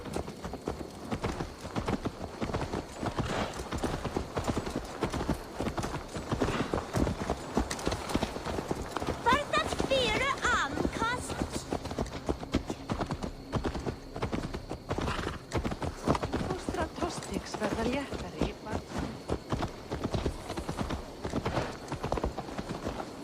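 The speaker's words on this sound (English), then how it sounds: "Let's return the horse." Horse hooves clip-clop steadily through Assassin's Creed Valhalla gameplay, a continuous rhythmic trot sitting in busy game ambience with a brief whinny around the middle.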